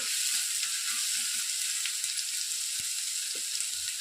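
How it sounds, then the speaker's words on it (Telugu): Vegetables for gobi fried rice fry over a high flame with a loud, continuous hiss, plus a few faint stirring knocks. "మంట హై ఫ్లేమ్లోనే పెట్టి వెజిటేబుల్స్ని ఫ్రై చేసేసుకోవాలి."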